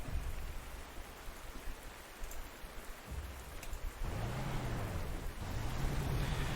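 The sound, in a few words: rain in a video game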